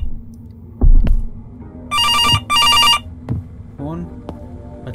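Phone ringing in an indie horror video game, two long loud electronic rings sounding in sequence over a low hum, with heavy thumps and a soft voice between them.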